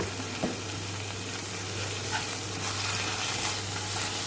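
Spice masala sizzling and being stirred in hot oil for a gathi dish with fermented fish, a steady soft frying hiss with faint scraping, close and without talk.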